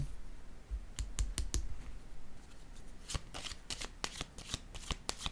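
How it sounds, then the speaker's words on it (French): Tarot cards handled and laid down on a table, a series of crisp flicks and soft slaps in irregular clusters, close and fairly quiet, with no talk. "Je vais déposer une carte sur elle."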